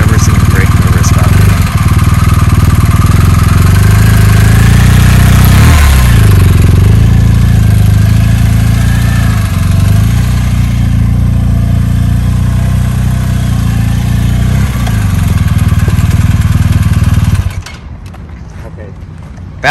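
A motorcycle riding a figure 8 on pavement, its mid-pitched engine droning steadily and rising and falling as it turns, loud and close for most of the stretch before cutting off abruptly near the end; a voice speaks over it.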